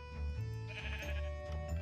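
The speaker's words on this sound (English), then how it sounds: "I need a colored sheep." A Minecraft sheep gives a few short, wavering bleats one after another, fairly close and clear over a quiet game backdrop, with no talking.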